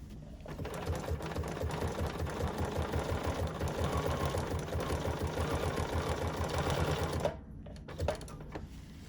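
A domestic sewing machine stitches a zigzag seam on a quilted fabric notepad holder with a fast, steady mechanical chatter for about seven seconds, then stops abruptly, leaving a quiet handling knock.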